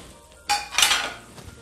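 Shrimp simmering in chili garlic sauce in a pan, a short burst of bright sizzling and bubbling that swells for about a second, then fades, close and fairly loud.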